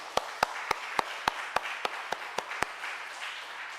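A run of about ten sharp, evenly spaced claps rings out loudly, followed by a softer wash of scattered clapping from a church congregation.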